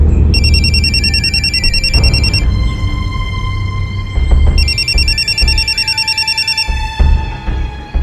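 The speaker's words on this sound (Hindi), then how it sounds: "पापा, फोन।" A telephone rings loudly in a household TV crime drama scene, with two electronic trilling bursts separated by a pause, each burst made of rapid warbling pulses, over a low room background.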